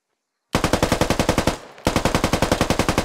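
Sustained full-auto gunfire in a tactical shooter video game, a fast, even string of loud close shots that briefly cuts out before resuming at the same rapid rhythm, with no talking.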